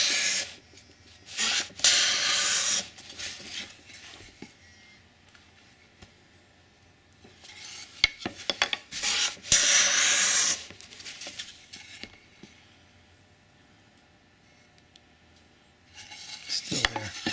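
A hand plane shaves a small chamfer along the edge of a pine candle box in a few separate bursts of rasping strokes, close by, with quiet pauses between them and no talking.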